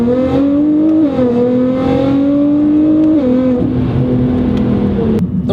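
A Nissan GT-R launching hard with all-wheel drive and launch control, its engine roaring loud and close as the pitch climbs steadily through two gear changes, with no voices.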